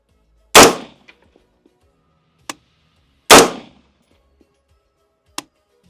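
Two loud, sharp M16A2 rifle shots, fired from a bench at a range, each with a short ringing tail and a faint metallic ping from the target after it, spaced about three seconds apart.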